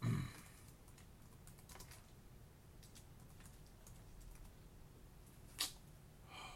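Keyboard typing from someone browsing at a thrift store, a faint run of soft key clicks with one sharper tap near the end, low and steady beneath room noise.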